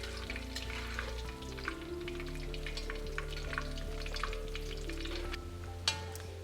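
Oil sizzles and bubbles steadily as cauliflower deep fries, with a low hum underneath and a single clatter near the end.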